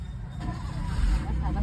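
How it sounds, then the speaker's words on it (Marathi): A road vehicle at a market setting, its engine a low, continuous rumble close by that swells slightly as it pulls away, with voices chattering over it. "गाडी बिडी चालू झाली"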